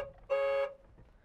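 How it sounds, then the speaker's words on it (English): A single short honk from the horn of a 2014 Jeep Wrangler Unlimited Sahara, loud and close, lasting about a third of a second against quiet surroundings. "horn"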